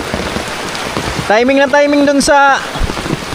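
Heavy typhoon rain pours steadily onto surfaces as a dense hiss, while a voice speaks loudly over it partway through.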